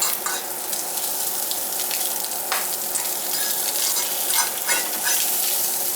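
Precooked breakfast browning in a cast iron pan, a loud close sizzle with occasional scraping stirs and a few sharper crackles, no talking.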